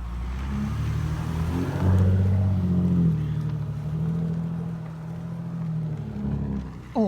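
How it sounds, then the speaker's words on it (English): A Mercedes AMG V8 car drives past with a deep, throaty engine rumble that swells and rises in pitch, holds steadily, then fades as it moves away. "Awesome sound, isn't it? That Mercedes AMG. Gotta love the V8."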